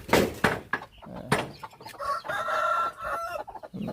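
Chickens on a farm cluck and crow close by, with a few sharp loud calls early on, then a rooster's drawn-out crow, all with no talking.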